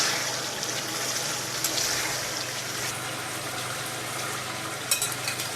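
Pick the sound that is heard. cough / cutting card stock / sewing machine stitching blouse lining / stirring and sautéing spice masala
stirring and sautéing spice masala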